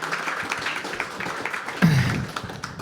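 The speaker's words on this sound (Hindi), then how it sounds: "जोरदार तालियां" A room full of people at a live poetry open mic claps steadily, a continuous patter of applause that swells slightly toward the end.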